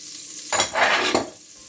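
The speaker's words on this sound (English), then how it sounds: "I'm going to stir this and all the yummies that are in the bottom." Shallots, bay leaf and onion being stirred and scraped in a pot for a chuck shoulder roast, two close swishing, sizzling strokes over a low steady background hiss, no voices.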